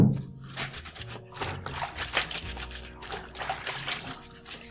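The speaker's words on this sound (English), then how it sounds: "then just scrub it and move to the next one" Clothes being scrubbed by hand in water, giving a steady wet rubbing and sloshing with splashing and trickling throughout, close up.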